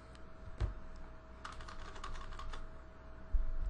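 Close-up typing on a computer keyboard, with a few isolated key taps followed by a quick run of clicks and a heavier thump near the end, over a steady faint background hum.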